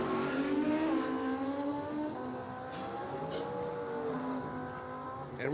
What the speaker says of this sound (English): I think that is a Kawasaki that Joe is on